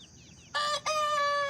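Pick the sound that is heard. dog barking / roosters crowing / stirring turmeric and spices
roosters crowing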